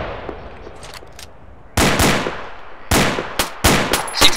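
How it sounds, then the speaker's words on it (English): Loud gunfire in the military game Arma 2 during a night battle: scattered sharp single shots and short volleys cracking close by, with a faint rattle of distant fire early on before the louder reports begin. "Enemy fire. Enemy fire. Taking fire. Under fire."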